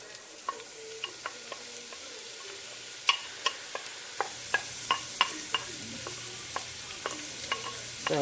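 Vegetables sweating in olive oil in a pan, a soft sizzle under a run of regular clicking spoon scrapes and knocks against the pot, close by and without talk.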